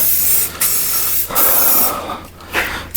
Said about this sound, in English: Oh, I love doing rattle can. Look how perfect that goes on.